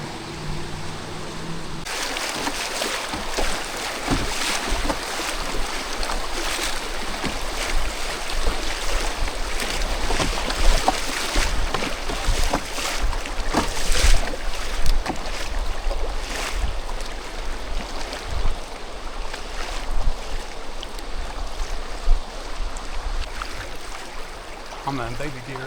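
A canoe moving down the Greenbrier River, a steady wash of flowing water and splashy paddle strokes close by, with faint wind across the open river and no voices.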